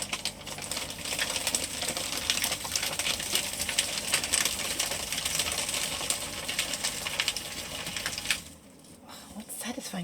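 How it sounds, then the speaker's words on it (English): A paper shredder chews through paper in a dense, continuous grinding rattle close to the microphone, then cuts off and leaves a brief lull near the end, with a voice talking underneath. "This shredder needs feeding"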